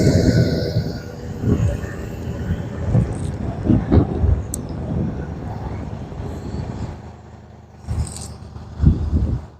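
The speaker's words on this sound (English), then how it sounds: "let's go ahead and do a cold start on it" A 2017 Nissan Titan SL pickup with about 100,000 miles is cold-started by remote on a roughly 40-degree day. A steady low engine rumble fills the clip, with a few louder surges and clunks along the way.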